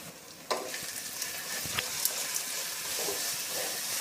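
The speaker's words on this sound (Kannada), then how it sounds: "ಈಗ ಈರುಳ್ಳಿ ಫ್ರೈ ಆಗ್ತಿದೆ. ಈಗ ಒಗ್ಗರಣೆಯಲ್ಲಿ ರುಬ್ಬಿಟ್ಕೊಂಡಿರೋಂಥ ಮಸಾಲೆನ ಸೇರಿಸ್ತೀನಿ." Onions and ground masala fry in hot oil, a steady close sizzle with sharp crackles and a scrape of stirring, no talking over it.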